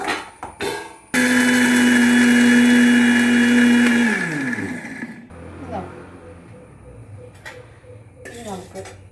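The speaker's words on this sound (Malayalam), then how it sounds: "ഇനി നമുക്ക് കപ്പലണ്ടി കശുവണ്ടിയും കൂടെ ഒന്ന് പൊടിച്ചെടുക്കാം" A kitchen mixer grinder whirs loudly as it grinds peanuts and cashews, a steady high motor whine for about three seconds that winds down, followed by lid knocks and handling clatter.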